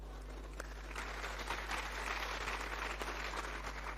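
Applause at a youth conference plenary session, a thin, scattered patter of clapping that swells slightly after the first second and holds steadily, fairly faint over a constant low electrical hum.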